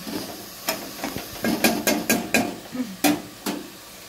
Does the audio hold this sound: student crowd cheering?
no